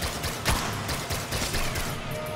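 Suppressive fire from the Commando in the video game Risk of Rain Returns: a rapid burst of several sharp gunshots in quick succession, loud and close, with no talk.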